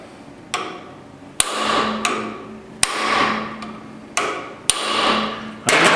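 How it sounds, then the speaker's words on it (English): A hammer taps a metal extension to seat a spark plug hole thread insert, sharp ringing taps, several firm hits spaced roughly a second apart, close by, each leaving a brief metallic ring. "take my hammer, and then you just tap it down."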